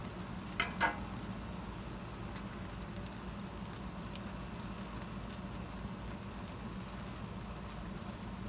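Breakfast fries on a Blackstone griddle, a steady low sizzle that holds evenly throughout, with two brief clinks near the start.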